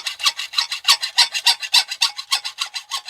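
A hacksaw rasps through brass in quick, even back-and-forth strokes, about four per second, close and bright, with no voices.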